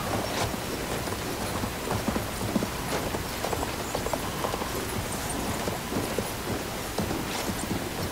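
In the Battlefield 1 video game, a horse gallops steadily with rhythmic hoof clip-clops over continuous battlefield noise and faint mechanical rattling.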